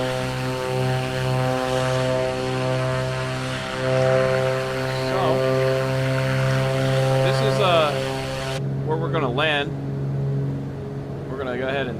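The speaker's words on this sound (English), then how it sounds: "which is pretty crazy how fast this plane goes" A BlackSquare Duke twin propeller plane in Microsoft Flight Simulator drones with a steady engine tone that shifts slightly in pitch, while someone talks over it.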